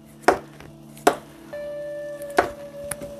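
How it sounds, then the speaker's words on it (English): A knife chops through a rutabaga in a kitchen, cutting away its skin and wax coating: three sharp, close cuts land about a second apart, with a steady hum and a brief faint tone in the background. "I just take a knife and slice it all off"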